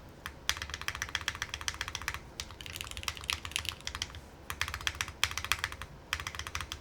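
Steady typing on a Mode Encore mechanical keyboard, crisp close clacks in quick rhythmic runs separated by brief pauses, with a low hum underneath.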